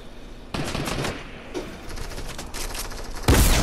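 Loud, sustained machine-gun fire in a video game rattles on in dense bursts, with a sharp, heavy blast at the end.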